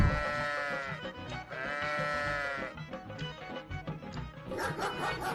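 A sheep or lamb bleats loudly and close in several drawn-out wavering calls, with rougher livestock noise following and no talking.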